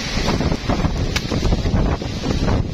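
Strong, gusty wind roars steadily across the microphone outdoors under a shed, with rustling and buffeting throughout and no speech.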